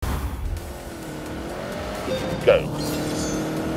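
A tuned turbocharged car with new rods, pistons and turbocharger making 330 horsepower accelerates with a steady, rising engine drone. A tyre squeals briefly partway through, and a voice speaks a single short word.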